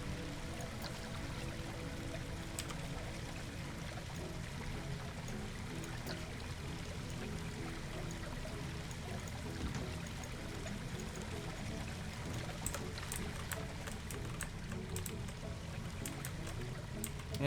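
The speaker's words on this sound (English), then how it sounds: "Water jet display?" A water jet display in the Planet Coaster park-building game splashes and pours continuously, a steady moderate wash of falling water with a few sharper spatters toward the end.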